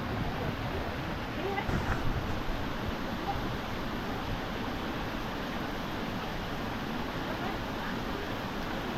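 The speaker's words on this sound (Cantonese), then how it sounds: "前面就大瀑布啦。" A waterfall in a mountain valley gives a steady, loud, broadband roar that stays even and unbroken from start to finish.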